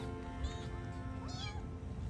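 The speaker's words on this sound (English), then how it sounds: "my neighbor and I have been hearing meows" A young kitten, about a few weeks old, meows several times in thin rising and falling cries, moderately close, over a steady low background hum with no talking.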